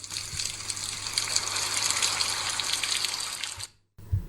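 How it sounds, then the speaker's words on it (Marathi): Water pours steadily in a loud, continuous gush as rain starts again, filling a farm pond, then stops abruptly near the end, leaving a short quieter tail. "पहा पहा, पुन्हा पाऊस सुरू झालाय."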